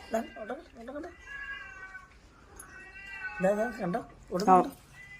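A domestic cat that runs from a dog lets out several loud, close meows: a short burst at the start, a longer drawn-out call, then two sharp cries near the end.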